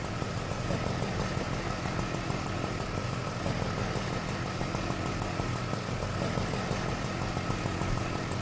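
A fire engine idles at a house fire, a loud, constant mechanical drone with a steady pulsing throb and broadband roar, unbroken and without speech.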